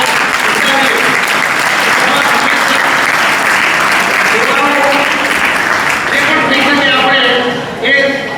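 Loud, sustained applause from a crowd at a Gurukul school ceremony opening a new prayer hall, dense steady clapping throughout before tapering slightly near the end.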